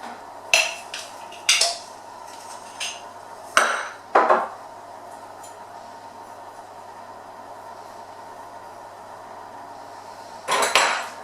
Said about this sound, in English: add in 2 tablespoons of Biscoff spread